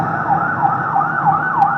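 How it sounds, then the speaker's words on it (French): Wailing ambulance siren in a video game, loud and close, its pitch sweeping up and down in steady cycles with no voices over it. "J'ai demandé qu'on envoie une ambulance sitôt la situation sous contrôle. Elle devrait pas tarder."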